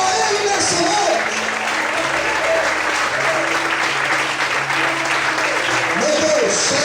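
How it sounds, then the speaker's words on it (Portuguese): A church congregation applauds, a loud, steady wash of clapping from many hands that carries on throughout, with a voice speaking over it. "será que você pode aplaudir o Senhor?"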